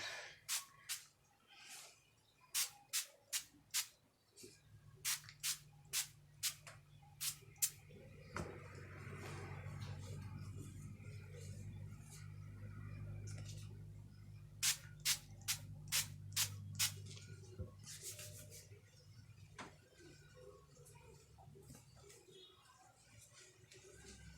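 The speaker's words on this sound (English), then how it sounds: "this olive oil spray on my hair" A series of quick, sharp bursts from an olive oil aerosol spray onto hair, in rapid clusters, with a steady low hum and soft rustling in between.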